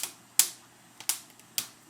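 Poblano pepper skin charring over an open flame, giving three or four sharp, close pops spaced about half a second apart over a faint steady hiss.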